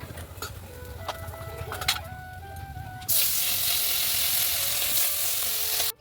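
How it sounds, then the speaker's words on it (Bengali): Fish sizzles in hot oil in a pan. The first half is quieter room ambience with faint scattered sounds, then a loud, steady hiss of frying takes over and stays close until it cuts off at the end. "মাছ ভাজাগুলো তুলে নিচ্ছি।"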